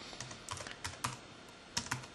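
Quick, light taps on a computer keyboard as a search term is typed into Windows 8, a short burst of close, soft clicks in an irregular rhythm with no talking.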